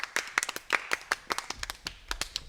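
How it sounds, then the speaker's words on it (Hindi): A group of children claps loudly and unevenly at close range, with quick irregular hand claps running for a couple of seconds. "जोरदार तालियां बजा दो बच्चों।"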